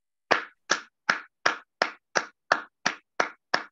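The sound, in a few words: warm round of applause for speakers and panelists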